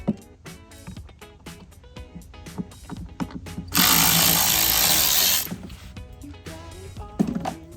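A power drill whirs in a steady burst lasting about two seconds while backing screws out of a Harley Davidson speaker grill, framed by scattered clicks and taps of handling parts and the tool.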